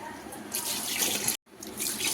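Water splashes into a pot of rice for mutton keema pulao in two close, steady pours separated by a brief silent break, with no talk over it.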